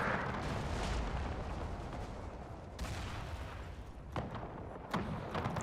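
Artillery fire in the Napoleonic-era strategy game Napoleon with the Era Mod, a fairly faint continuous battle rumble with a few sharper cannon booms late on, no speech.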